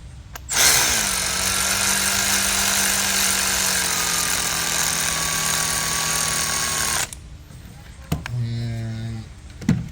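A power tool whines loudly on a Mercedes CLS 400 3.0 V6 turbo engine during spark plug work, a sustained high buzz dropping slightly in pitch before cutting off abruptly, followed by brief whirring bursts.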